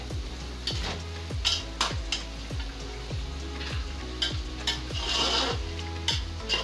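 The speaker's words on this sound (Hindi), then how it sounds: "अब इसको 10 मिनट तक भूनते रहेंगे।" About 1.5 kg of beef for nihari fries in a pot with a steady loud sizzle, while a spoon scrapes and stirs through it in repeated regular strokes, close up and without speech.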